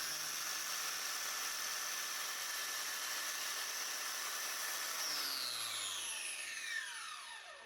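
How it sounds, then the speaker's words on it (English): A Parkside PWSAP 20 Li cordless angle grinder cuts into a metal practice piece previously used for welding, a steady high whine of the disc that holds for several seconds and then spins down in pitch as the tool slows. "in this part I was carefully testing the grinder on a practice piece that I have used for welding before."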